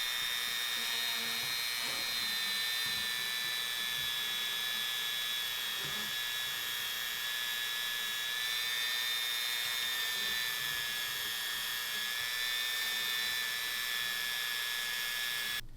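A continuous high-pitched whine of a small rotary tool spinning a piece of 3D printer filament to melt it into a crack in a printed part, steady throughout with slight wavering, plus faint low clunks underneath.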